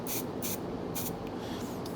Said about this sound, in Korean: 이 부분은 조금 더 확실하게 스프레이를 뿌려서 고정해 주시는 게 좋습니다